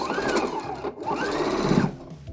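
A sewing machine runs steadily, back stitching trim onto fabric, with a brief pause near the middle before the motor whirs on again up close, with no talking.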